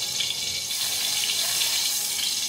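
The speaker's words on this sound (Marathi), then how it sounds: "थोडं पाणी राहिलं म्हणून ते तेल तडतडतं" Hot oil crackles and sizzles in a pot where leftover water hits it while chicken biryani is cooked, a continuous bright hiss running steadily and close without any talk.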